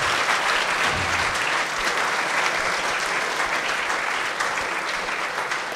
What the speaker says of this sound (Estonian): Palun, suure aplausi saatel.